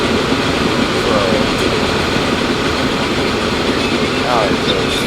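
A train runs along the tracks in the railway game Transport Fever 2, a loud, steady rumble and rolling wagon noise with faint clicking, continuous throughout and heard up close.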